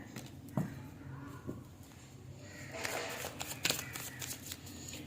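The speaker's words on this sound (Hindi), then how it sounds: "अब यहाँ से 2 कार्ड्स ऑरिकल भी निकालूंगी।" Oracle cards are shuffled and drawn by hand, producing soft riffling and flicking bursts with a few crisp snaps, quiet and close, with no speech.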